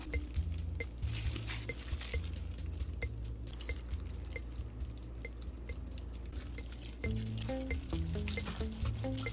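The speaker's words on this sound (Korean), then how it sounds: "가지가 식었으면 이 물기를 짜줘야지" Water being squeezed out of cooked, steamed eggplant by hand: scattered wet drips and squishy liquid sounds, close and fairly quiet, over a steady low background hum.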